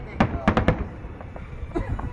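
Fireworks bursting over Riyadh for Eid al-Fitr, a quick run of sharp pops and booms with a few more scattered bursts after, moderately distant, while people chat excitedly nearby.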